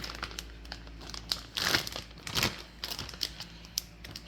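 Small plastic Ziploc bags crinkle and rustle up close while pieces of peeled dasheen and sweet potato are packed three to a bag, with irregular crumpling bursts and no talking.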